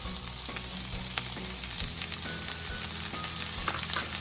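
Onions, peppers and mushrooms sizzle in a frying pan for fried rice, a steady close crackling hiss with small pops and the occasional clink of stirring.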